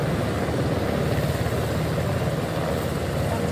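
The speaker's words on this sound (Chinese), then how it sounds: "透过空勤直升机吊挂送医" An air rescue helicopter hovers while hoisting a stretcher, a dense, steady rotor and engine roar filling the scene at a moderate distance, with no talk.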